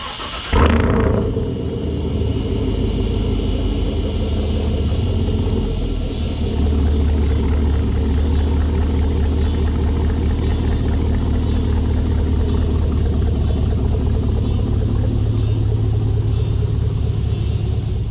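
A Chevrolet Silverado pickup on 35-inch tires and 24-inch wheels runs steadily, its deep engine rumble rising and falling as it drives, with a brief clunk at the start and no talking.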